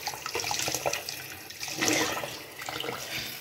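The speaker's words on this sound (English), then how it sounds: "And then you just stick your head under the water and pretty much just rinse." Tap water running into a bathroom sink while a head is rinsed under the stream: a steady, close, splashing flow with shifting gurgles as the water hits hair and basin.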